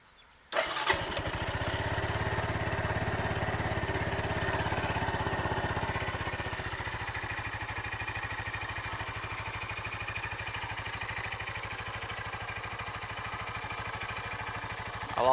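A 2009 Suzuki TU250X motorcycle engine cranks and catches after a brief quiet start, then settles into a steady, close single-cylinder idle that continues unbroken with no talk.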